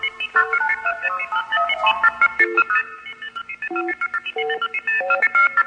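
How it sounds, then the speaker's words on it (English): Multi-frequency signaling tones on a 1974 crossbar telephone line in Van Nuys: rapid sequences of short, bright tone pairs pulse in quick bursts, loud and clean, with a brief pause in the middle. "not only MFing tones in his ear, but making various call attempts, mostly to international destinations"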